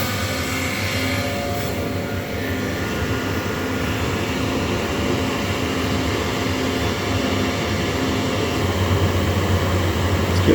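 An HP r2000 plus flatbed printer warms up before printing on ultraboard, giving a steady, close mechanical whir and fan hum with faint tonal whines that hold constant for about ten seconds, with no talking.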